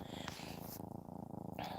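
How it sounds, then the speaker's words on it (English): Steady, rhythmic purring close by, a low rumbling pulse that continues without pause for a couple of seconds. "You can hear them purring."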